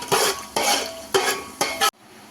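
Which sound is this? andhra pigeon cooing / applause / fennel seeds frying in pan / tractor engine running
fennel seeds frying in pan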